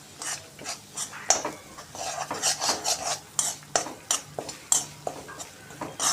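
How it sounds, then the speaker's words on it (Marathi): Semolina roasting in hot ghee for mango shira is stirred with a metal spoon, giving quick repeated scrapes and clinks against the pan, close and steady with no voices. "रवा छान असा भाजून घ्यायचा तुपावर."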